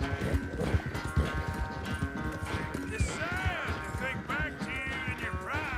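A horse galloping in Red Dead Redemption 2, steady hoofbeats pounding under a voice speaking, with a whinny-like cry near the end.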